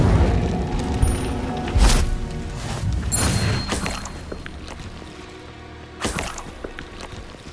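Incendio fire spells cast repeatedly in Hogwarts Legacy combat: several loud whooshing bursts and booms, the sharpest near the start and another near the end, over a dense, rumbling game-effects bed with no talk.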